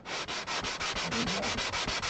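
Rhythmic back-and-forth sanding on an acoustic guitar's wood, about six strokes per second, close and steady, with a raspy scratching texture and no voices.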